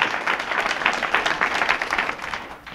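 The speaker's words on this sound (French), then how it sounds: "Yes, il faut les applaudir" A crowd at a Paris election-night campaign gathering breaks into sustained applause for the campaign organizers, dense, steady clapping that holds fairly loud throughout.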